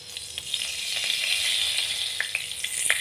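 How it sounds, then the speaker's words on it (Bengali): Spices for cucumber shukto temper in hot oil with a bright, close sizzle. Scattered sharp pops and crackles rise briefly over the hiss, and no voice is heard. "এখন এখানে দিয়ে দিচ্ছি অল্প শস্য ফুরনের জন্য"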